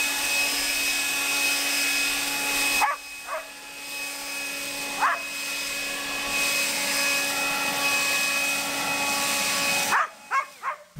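A Toro 60V battery leaf blower runs without turbo boost, a loud steady whooshing roar close by with brief dips as it is swung, and dogs barking in short bursts in the background.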